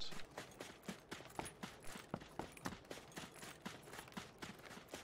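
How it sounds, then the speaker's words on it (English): Rapid bursts of in-game gunfire from a PUBG squad firefight ring out in irregular volleys, sharp repeated cracks at moderate distance layered over a steady background hum. "They're shooting at us now."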